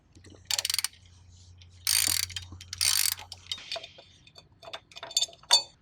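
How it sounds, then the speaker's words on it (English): A 13mm socket wrench ratchets out the bolts on a pump shaft cap, giving several short bursts of rapid clicking with brief pauses and small metallic taps between them, close and clear. "As I'm doing this, I'm using a 13mm socket wrench."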